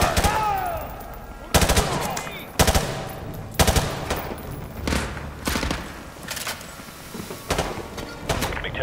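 Suppressing machine gun fire in Call of Duty MW2 Remastered rattles out in about seven sharp, loud bursts spaced roughly a second apart, each a tight cluster of rapid shots with echoing tails between.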